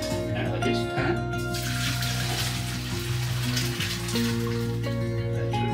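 Chicken stock is strained from a pan into a jug while cooking a chicken pot pie, giving a steady liquid pouring and splashing over soft tonal background music, with no clear pauses.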